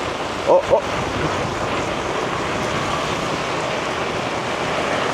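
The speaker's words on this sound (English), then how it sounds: "it's getting more windy now" Strong wind at a beach in Da Nang, Vietnam during a rainstorm buffets the microphone in a constant roar, with surf-like rushing noise underneath and two brief bumps near the start.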